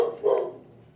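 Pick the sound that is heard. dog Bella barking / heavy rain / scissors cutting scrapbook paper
dog Bella barking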